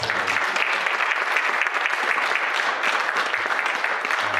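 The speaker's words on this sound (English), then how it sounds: "Can we have one more round of applause for our panelists?" An audience at an Oregon wine history event applauds its panelists with steady, dense clapping that holds at an even level throughout, with no talking over it.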